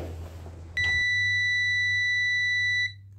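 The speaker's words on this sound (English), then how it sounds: "At least you got an alarm" A DIY solar panel theft detector sounds its alarm, a sudden piercing electronic beep that holds steady and loud for about two seconds before cutting off. A low hum runs underneath.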